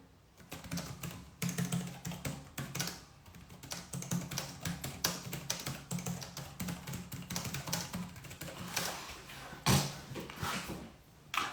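Rapid computer keyboard typing while a note is written, close and fairly quiet, with irregular bursts of clicking keys and brief pauses and no voices.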